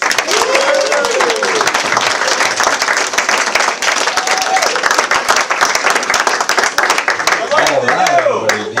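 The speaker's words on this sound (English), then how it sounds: "Put your hands together for Jay Falk, everybody" A bar crowd at a live comedy show claps and cheers for a comedian taking the stage, loud, dense applause with whoops and voices mixed in throughout.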